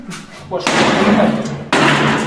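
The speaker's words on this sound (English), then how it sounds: "He's locking the door, the common door." The shared common door of an apartment building is shut and locked, with two loud, sharp slams and thuds close by.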